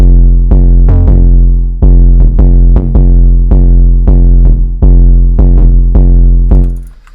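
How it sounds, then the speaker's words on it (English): A loud, booming 808 bass drum standing in for the kick in an FL Studio trap beat, pounding in a steady syncopated pattern of deep sustained hits with sharp attacks, close and dominant, fading out at the end. "I basically replaced the kick with an 808 in this case"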